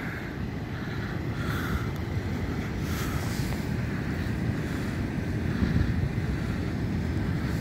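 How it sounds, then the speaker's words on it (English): Big ocean surf roars steadily at Stafnes, Iceland, with a broad wash of breaking waves, mixed with gusty wind buffeting the microphone. "Ooh, the waves are big."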